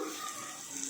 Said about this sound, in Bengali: নাড়াচাড়া করে ভেজে নিচ্ছি।